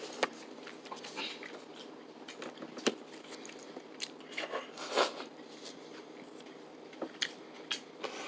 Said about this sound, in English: there's a lot of unmelted sugar, so every bite is very crunchy